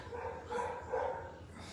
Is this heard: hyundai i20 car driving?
no